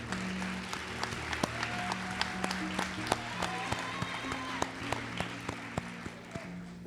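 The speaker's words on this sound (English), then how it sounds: "Round of applause for these great students here" Scattered clapping from a ceremony audience for nursing students at a white coat ceremony, light and uneven, with sustained music playing steadily underneath throughout.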